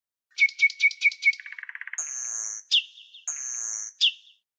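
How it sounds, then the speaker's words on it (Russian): A nightingale sings alone in a short phrase of rapid repeated chirps, a fast trill and a few high whistled notes. "Соловей."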